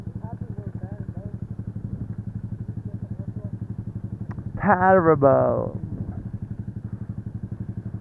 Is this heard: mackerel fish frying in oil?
no